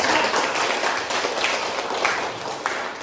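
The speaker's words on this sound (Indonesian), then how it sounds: "tepuk tangan atau beri aplaus untuk kelompok" A crowd claps together for a presenting group in a classroom discussion session, with steady, dense applause that fills the space for a few seconds without speech.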